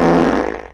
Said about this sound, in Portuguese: E a boneca peidando?